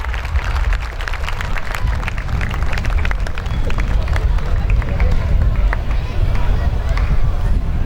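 Loud, sustained applause from a crowd at a school annual day event, dense clapping continuing throughout with voices babbling underneath.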